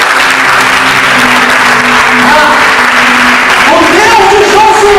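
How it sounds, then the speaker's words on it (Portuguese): A church congregation applauds during a Portuguese sermon on prayer, loud dense clapping throughout, with a sustained tonal sound, likely music or voices, running beneath it. "Você pode aplaudir o meu Deus?"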